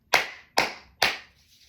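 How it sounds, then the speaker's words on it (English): Three loud, sharp hand claps in quick, even succession, close to the microphone, each cracking out and fading fast in a quiet room. "I'm gonna do 3 loud claps to move this energy."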